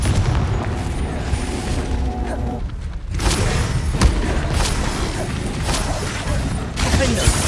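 Confringo blasting-curse explosions from the game Hogwarts Legacy boom repeatedly and loudly, overlapping bursts with a short lull near the three-second mark, under a continuous dense roar.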